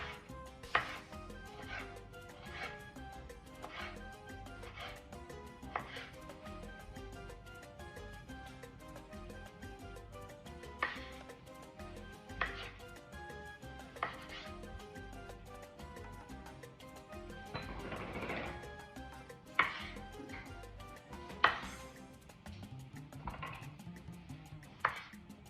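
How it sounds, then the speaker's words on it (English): A knife slices small tomatoes into rounds on a board in steady, evenly spaced taps. The taps are soft and close, over a faint steady background hum, with a brief louder rustle near the end. "So now we're gonna cut the tomatoes."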